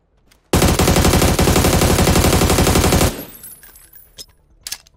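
A long, dense burst of rapid automatic gunfire lasting a few seconds, loud and continuous, then cutting off to a few faint clicks and small noises.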